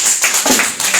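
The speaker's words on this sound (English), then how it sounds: "Clap your hands." Church congregation clapping hands during a Resurrection Sunday service, a few loud, close, rhythmic claps in a short burst.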